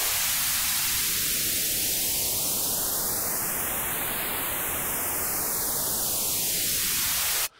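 Synthesizer noise runs through a swept filter, giving a loud, steady hiss with a hollow notch that rises smoothly, peaks, then falls back down before the sound cuts off abruptly.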